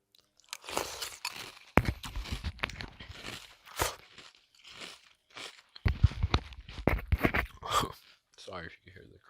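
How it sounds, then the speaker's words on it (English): Crunchy cereal with milk being chewed in repeated bursts of crisp crunching, close to the mic, alternating with a person talking. "Sorry if you hear the crunching."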